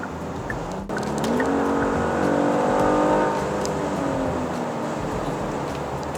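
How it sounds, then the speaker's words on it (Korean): A Genesis G80 3.5T with the sport package, driven in sport mode, gives a steady engine drone from inside the cabin that rises in pitch as it accelerates, then holds and eases slightly under constant road noise. "이번에는 주행 모드를 스포츠로 바꾸고 조금 달려 보겠습니다."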